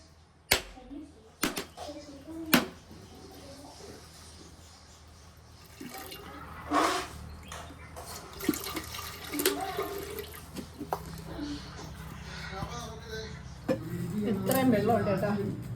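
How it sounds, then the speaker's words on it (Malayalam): Tender coconut water is poured into a jug, a gurgling, splashing pour with a few sharp knocks, while people talk throughout. "ഇപ്പം കരിക്കിൻ്റെ വെള്ളം തരാം കേട്ടോ."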